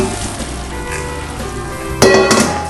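Meat mixer blending 80/20 round chuck with venison for deer and beef bologna, a steady mechanical churning hum with a brief louder surge of motor and meat noise near the end, no talk.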